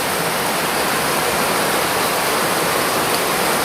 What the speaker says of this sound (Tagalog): Tingnan nyo, guys, ang ulan.